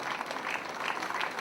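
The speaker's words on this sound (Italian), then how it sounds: "un grandissimo applauso a lui" Steady applause from a crowd, a dense even patter of many hands clapping throughout with no pauses.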